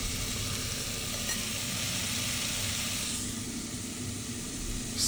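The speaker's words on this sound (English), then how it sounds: "Just gonna sweat these out a little bit to make sure the fat is nicely rendering." Hungarian szalonna bacon rendering its fat in a pot over the heat for bean soup, giving a steady, close, even sizzle and crackle throughout.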